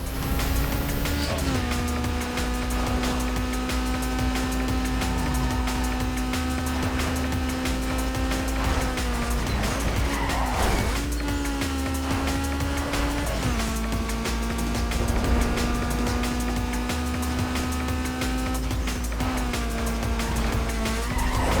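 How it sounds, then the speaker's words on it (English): A race car in Need for Speed: Underground 2 skids on the handbrake, its tires squealing loudly and continuously over a droning, shifting engine, with repeated pitch drops as the car slides and recovers. "Why am I hitting the handbrake for?"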